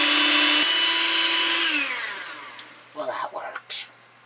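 An electric hand mixer whirs loudly while beating peanut butter cookie dough, its pitch dropping as it slows and stops, followed by a person speaking nearby.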